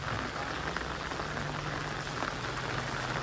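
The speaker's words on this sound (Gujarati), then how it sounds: "વળી પાછો વરસાદ ચાલુ થઈ ગયો" Heavy rain pours steadily in a village near Botad, Gujarat, a dense, even hiss of drops drumming on surfaces that stays constant and close throughout, with no voices.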